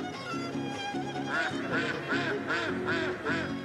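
Dozens of ducks living at the fountains of a town square quack loudly and repeatedly in a steady, rhythmic series of close, honking calls.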